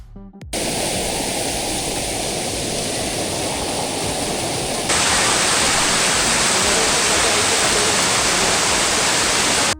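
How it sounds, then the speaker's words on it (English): Flowing stream water on the misty climb to Lohagad fort, a loud continuous broadband rush that grows brighter and fuller partway through, near and without voices. "The final climb follows a stream with flowing water and takes around 15 to 20 minutes to climb"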